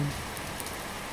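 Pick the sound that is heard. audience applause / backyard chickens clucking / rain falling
rain falling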